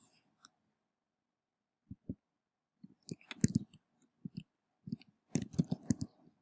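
Keys tapped on a computer keyboard to enter a website address: sparse, irregular clicks in small clusters, close and quiet against a silent room.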